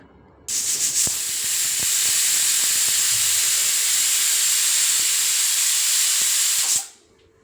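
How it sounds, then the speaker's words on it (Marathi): A loud, steady hiss of steam jets out continuously for several seconds, then cuts off abruptly, as a pressure cooker cooking dal and rice vents. "आणि कुकर लावून आपल्याला याच्या शिट्ट्या करून घ्यायच्या आहेत."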